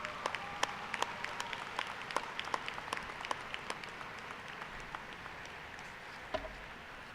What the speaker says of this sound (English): please stand and just give them a hand of applause and say thank you.